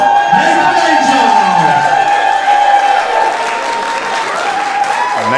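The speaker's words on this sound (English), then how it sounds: "And Nathan Angel getting the support of the crowd on his way out here." A wrestling event crowd claps and cheers steadily as a wrestler makes his way out, a loud sustained roar with whoops, mixed with music tones and arena sound.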